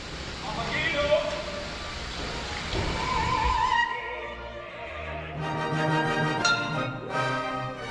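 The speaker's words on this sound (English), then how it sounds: "but it's the sound of rain in the trees," Steady hiss of rain pattering through leaves, made by a hand-worked prop, with a brief tonal rattle partway through and faint talk in the background.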